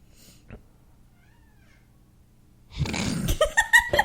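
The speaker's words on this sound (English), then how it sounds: "There's a cat in here apparently." After a quiet stretch, a cat lets out a series of loud, drawn-out meows close by.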